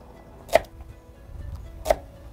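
A knife chops red onions on a cutting board with two distinct, sharp thuds about a second and a half apart, close and clear over a quiet kitchen background.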